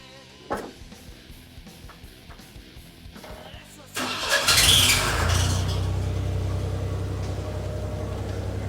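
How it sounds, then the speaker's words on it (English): A Chevrolet S-10 squarebody truck cranks and fires up after a tune-up, going from quiet clicks to a sudden loud catch, a brief screechy belt squeal at startup, then a steady close idle. "So let's hook up the battery and start this truck up."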